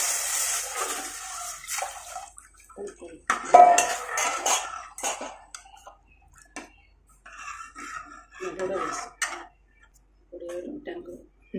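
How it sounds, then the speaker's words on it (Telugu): Buttermilk stirred into fried tempering in a pot for a Telugu pulusu, with intermittent clinks and scrapes of a ladle against the pot and liquid sloshing, up close and fairly quiet. "ఇప్పుడు మజ్జిగ వేసి అలా కలుపుతూ ఉండాలి"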